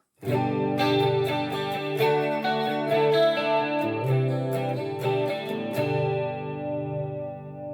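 Clean electric guitar chords on a Gibson SG, strummed and picked in a steady rhythm, with a shimmering, slightly wavering chorus tone ringing out alone.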